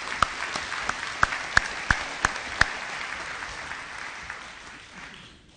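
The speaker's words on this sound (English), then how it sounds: "Round of applause for Derek." An audience at an IndyCar championship celebration applauds an honoree: a soft wash of clapping punctuated by several loud, distinct nearby claps in the first few seconds. The applause then fades out gradually.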